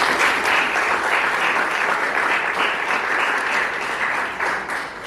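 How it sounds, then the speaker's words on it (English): Audience at a school talent competition final applauding, a dense, steady wash of clapping from many hands throughout, loud and close, easing slightly toward the end. "can we please clap in again for him?"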